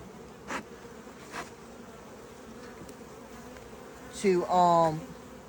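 Honeybees and drones buzz around an open hive during a beekeeping inspection, a faint steady hum with two short passes by single insects, then a louder, deeper buzz close by near the end.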